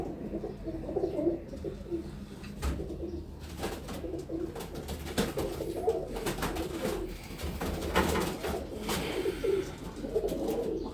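A slate-grey pigeon in a loft gives repeated soft, throaty coos in a steady rhythm over a low background murmur, with occasional faint rustles and clicks nearby.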